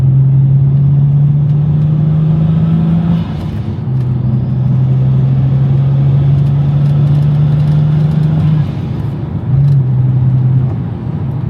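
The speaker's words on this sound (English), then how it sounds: "I hope you guys could hear all the turbo and blow-off sounds off it" A turbocharged BMW E92 335i engine drones loudly and steadily as it accelerates from third gear, with a brief drop in tone a few times as gears shift and the blow-off valve releases pressure.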